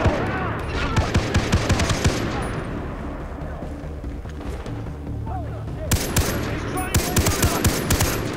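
Far Cry 3 firefight with bursts of rapid automatic gunfire, loud and close, in dense clusters at the start and again near the end, separated by a quieter stretch of scattered shots and ambience.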